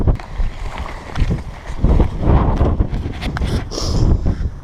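Strong Pyrenees wind buffets the microphone with loud, continuous low rumbling and gusting roar that swells and eases throughout, with no quieter lulls.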